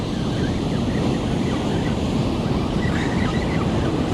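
Breaking ocean waves in the November surf roar steadily and loudly, a continuous wash of surf with wind buffeting the microphone.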